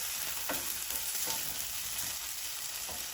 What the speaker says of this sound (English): now that this is frying up